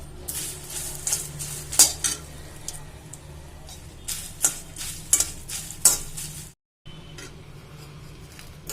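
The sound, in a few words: dried red chillies and curry leaves frying and being stirred in oil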